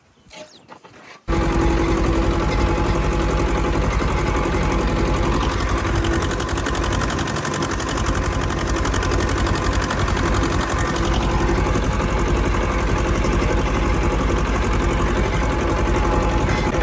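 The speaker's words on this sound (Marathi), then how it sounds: "कसा चालतोय मित्रांनो ट्रॅक्टर" A tractor engine runs steadily in a farm field, a loud continuous drone that starts abruptly after a brief quieter moment and holds without pause.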